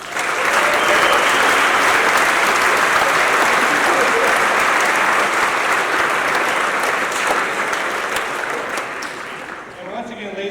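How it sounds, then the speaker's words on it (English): An audience at a university athletic hall of fame induction ceremony applauds, a dense, loud, sustained clapping that tapers slightly near the end as a voice begins to speak. "Please give them a round of applause."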